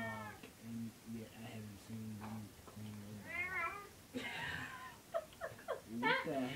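A cat lets out drawn-out groaning, yowling cries while being bathed. The cries come in several bursts, rising and falling, close by and fairly loud, with people talking around them.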